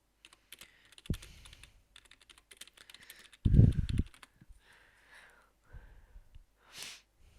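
Typing text onto a shape in an image editor on a computer keyboard: sparse, crisp key taps in short bursts, close and fairly clear, with one louder thump partway through and no talking.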